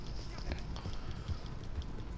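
Horse hooves clip-clop in the video game Red Dead, a steady gait of soft thuds over a busy game soundscape with some speech.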